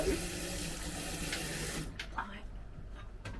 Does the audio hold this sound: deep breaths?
no